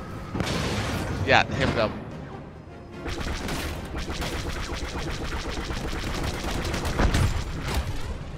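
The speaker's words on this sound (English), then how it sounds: "I was way clear of that turret explosion" Explosions and blaster fire from a starfighter battle in Star Wars Battlefront 2, including a turret blowing up, rumble and crash loudly and continuously, and a player speaks briefly over the noise.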